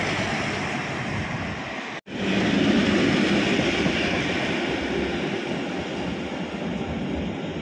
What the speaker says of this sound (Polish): Pociąg towarowy z kontenerami, z lokomotywą PCC.